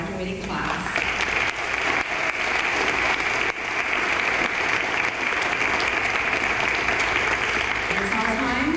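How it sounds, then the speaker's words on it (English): A large crowd at a graduation ceremony applauds the graduating class in a long, steady, full ovation. A voice speaks briefly at the start and again at the end over the clapping. "one more round of applause for a congratulating graduating class."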